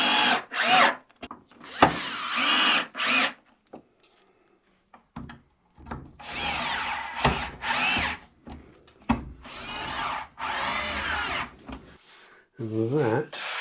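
A power drill drives four screws into the underside of a wooden MFT workbench, with repeated loud whirring bursts separated by brief pauses and some handling clatter.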